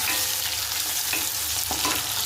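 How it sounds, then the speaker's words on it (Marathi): Masala with onion and tomato fries in a pan for an aloo gobi dish, giving a dense, even sizzle close up, with faint stirring scrapes underneath. "अरे बघा मसाला फ्राय होतो"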